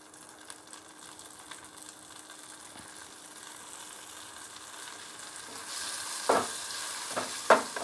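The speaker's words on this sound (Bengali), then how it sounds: "এখন পেঁয়াজের সঙ্গে আমি টমেটোটাকেও ভেজে নিব" Chopped tomatoes frying with browned onions for an omelette curry, a soft steady sizzle that rises toward the end with a couple of louder bursts as the tomatoes hit the hot oil.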